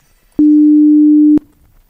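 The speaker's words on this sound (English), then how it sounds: "So if I just make a tone of uh, 300 hertz," A steady, pure 300 Hz sine tone sounds alone for about a second, starting and stopping abruptly.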